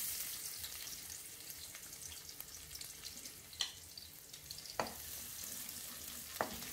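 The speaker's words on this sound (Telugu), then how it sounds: "ఇప్పుడు ఆనియన్స్ వేసుకుందాం." Chopped onions fry in three spoons of oil over a high flame, a steady close hiss of sizzling with a few sharp scrapes of stirring.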